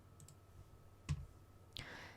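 A computer mouse clicks on a save button, giving a single faint, sharp click in a quiet room, followed by another soft click and a brief rustle.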